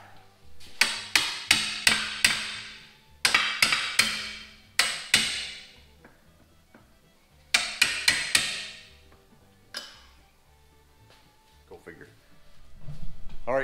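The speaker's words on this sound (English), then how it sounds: "Time for a bigger hammer." A large hammer strikes a tie rod on a 2009 Dodge Avenger in sharp metallic clangs, fired in quick bursts of several hits separated by short pauses, with a lone blow near the end.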